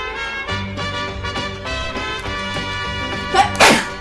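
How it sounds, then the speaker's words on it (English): One forceful sneeze erupts near the end, close and loud, after several seconds of steady music playing in the room. "I'm gonna sneeze actually."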